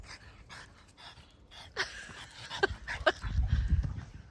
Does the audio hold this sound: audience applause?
no